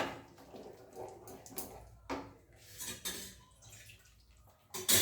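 A yogurt bowl being rinsed and water added to a pan while cooking chicken bharta, with clinking dishes and metal utensils, splashes and drips in irregular bursts, close and moderately loud.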